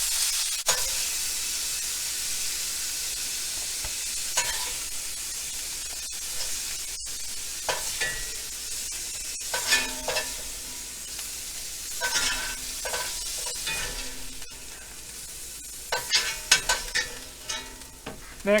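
Beef is seared and stir-fried in a hot pan, a loud, hissing sizzle steady throughout with frequent spatula scrapes and tosses close by.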